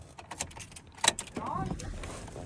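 Keys jangling at the ignition of a truck with a freshly installed LBZ engine, a few light metallic clinks and a brighter rattle midway, close and fairly quiet.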